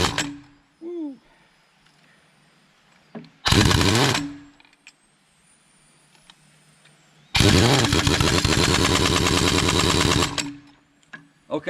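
Harbor Freight Earthquake 1-inch air impact wrench working on wheel wedges, firing in two loud, close bursts of rapid hammering, a short one of about a second and a longer one of about three seconds, with quiet shop gaps between.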